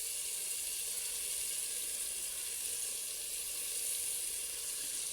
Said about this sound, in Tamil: தக்காளி வெங்காயத்து கூட சேர்ந்தோன்னா இன்னும் நல்லா வதங்கி கொடுக்கும்.